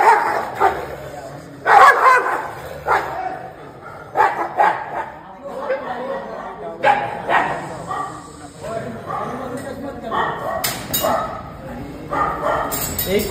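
Dogs at a municipal dog control centre in Turbhe bark and yip in repeated bursts, with some whimpering and metallic clinks, while people talk over them nearby.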